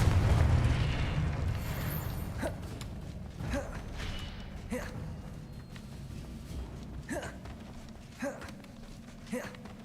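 A Confringo blasting spell from Hogwarts Legacy bursts with a loud, low boom at the start. The rumble fades, and a series of short, fainter impacts and swishes follows.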